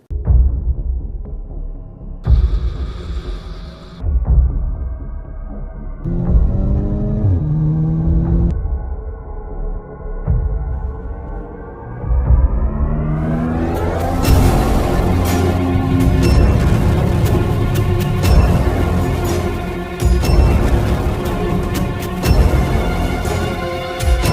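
A 2018 Audi A5 Sportback out on the road, its engine hum rising and falling through gear changes before a louder, busier stretch of road and wind noise takes over, steady and close throughout.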